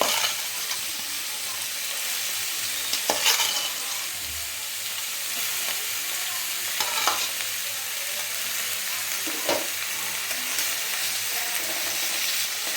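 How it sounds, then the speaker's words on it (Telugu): Jackfruit pieces frying in oil until brown give a steady, close sizzle with occasional scraping stir strokes from a spatula, and no one speaks. "ముక్కల్ని అందులోకి వేసుకొని వేపుకోవాలి. మంచి బ్రౌన్ కలర్ వచ్చే వరకు వేపుకోవాలి."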